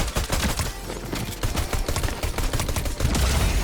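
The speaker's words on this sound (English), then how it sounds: "Bro, this pistol sucks." Rapid pistol gunfire in the video game Fortnite, a dense run of sharp shots fired close together for a few seconds with no talk.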